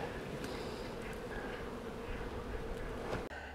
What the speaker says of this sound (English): Bees look pretty happy with their new setup, don't they?